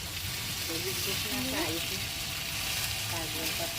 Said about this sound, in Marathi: आपण आता चांगल्यापैकी मिक्स करून घेऊयात